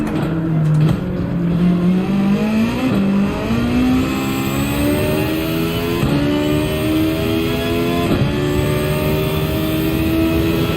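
Porsche race car in Gran Turismo on a straight, its engine loud and close as it climbs through the gears with repeated rising revs and brief shift dips, running continuously throughout.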